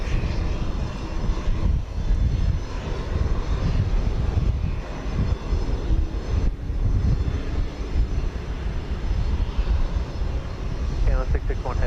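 A fixed-wing airliner roars down runway 15 left at Houston Intercontinental during takeoff, a broad, steady engine rumble at moderate distance, with a radio voice and a short tonal chirp near the end.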